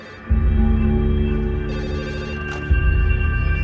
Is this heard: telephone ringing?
yes